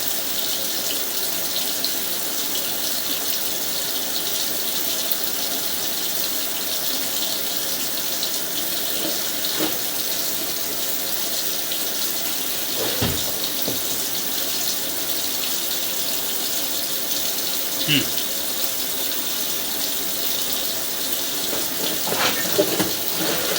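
Steady, continuous rush of water from a tap rinsing out a cast iron fixture, a constant close hiss with a few faint knocks and clunks, no voices.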